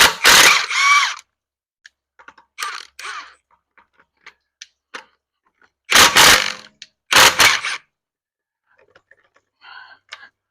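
A ratchet turns a 19 mm deep well socket on a lug nut of a 2015 Ford Escape in short bursts of rapid clicking, close and loud, separated by quiet pauses and faint clinks.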